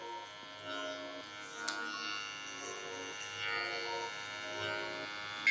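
Hair clipper running with its blade fully open during a high taper fade haircut, a steady close electric buzz with a constant tone throughout and no talking.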